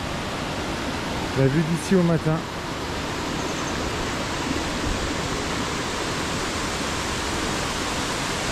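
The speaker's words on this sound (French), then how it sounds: "Là, il y a une petite cascade super sympa aussi." A small waterfall rushes steadily as broadband noise, with a short spoken remark near the start over it.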